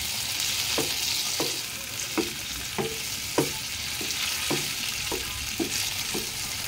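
Rice sizzling and frying in a large wok for sinangag, steady crackle with rhythmic scraping strokes of a spatula about twice a second, close and clear, no voices.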